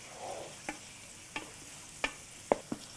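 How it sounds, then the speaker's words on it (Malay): Spices being stirred in a cooking pot while chili powder is added for a beef pita filling, heard as scattered sharp scrapes and clinks of the spoon against the pot over a faint background sizzle, with no talking. "Kacau balik."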